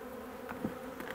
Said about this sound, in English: I don't really want to squash any bees